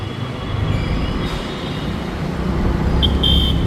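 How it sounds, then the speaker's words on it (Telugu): Delhi Metro train at Mayapuri metro station gives a steady rumbling roar of rolling carriages, close and loud, with a brief high squeal or electronic tone near the end. "ఇది మాయాపూరి మెట్రో స్టేషన్"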